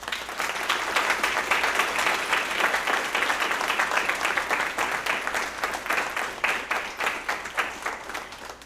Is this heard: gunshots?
no